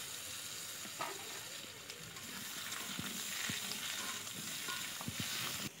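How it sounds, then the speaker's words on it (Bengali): Potatoes frying in oil in a kadai for a home-style chicken curry, giving a continuous quiet crackling sizzle with scattered small pops and a few faint stirring knocks throughout. "দেখো এবার কড়াইতে তেল দিয়ে আলুটা ভেজে নেব।"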